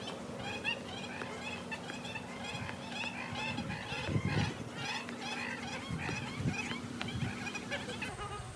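Many water birds, geese among them, honk and call continuously across a large pond in a bird garden, a dense overlapping chorus with some louder honks standing out nearby.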